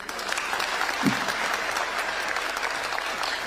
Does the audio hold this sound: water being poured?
no